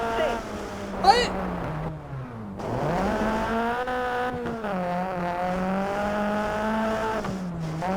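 Rally car engine from the racing game Sebastien Loeb Rally EVO, a steady droning whine that rises and falls with gear changes across the run, with a brief sharp burst near the start, under a voice calling pace notes.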